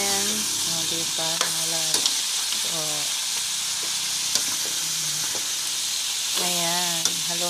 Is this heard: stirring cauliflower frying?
yes